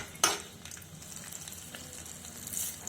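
Crushed garlic drops into about three spoons of hot oil in a wok with a sudden loud hiss, then settles into a softer steady sizzle.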